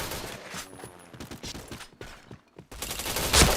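Rapid gunfire bursts from the Point Blank shooter game, dense crackling shots in quick succession with a brief lull before a louder, sharper volley near the end.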